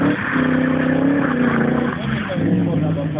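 A BMW V8 race car on a twisty track: the engine revs hard and climbs through accelerations, loud and close throughout, with a brief dip and surge near the middle.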